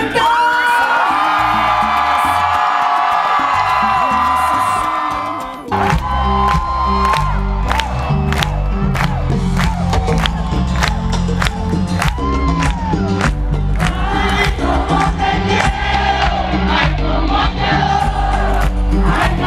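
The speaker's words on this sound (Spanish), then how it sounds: "quiero que griten como nunca" A large concert audience cheers, whoops and yells loudly and continuously for a show in Managua, the roar briefly rising before a dense, sustained crowd din with scattered shouts.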